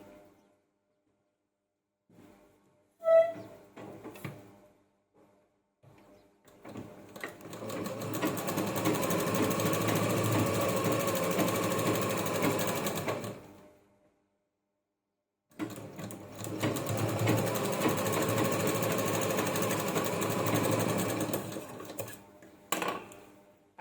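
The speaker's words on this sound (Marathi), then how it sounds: "आता या बाजूला पण आपल्याला टिप मारायची आहे" A sewing machine stitches lining onto a bag made from a saree blouse piece, two long bursts of rapid, even mechanical rattling separated by a pause, close and fairly loud, with a few quiet handling clicks before.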